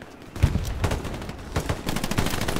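Video game gunfire in a courtyard firefight, with bursts of machine-gun fire crackling in rapid volleys at moderate loudness and a brief pause near the middle before the shooting resumes.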